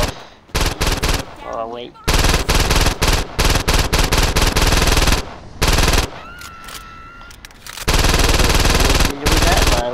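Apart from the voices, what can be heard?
gunfire in Saints Row 2 video game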